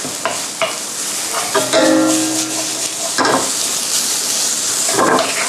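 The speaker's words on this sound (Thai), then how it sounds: "เราจะผัดหอมจนเขานิ่ม" Shallots stir-frying in a hot pan with allspice, a loud sizzle broken by several short scraping stirs of a utensil against the pan.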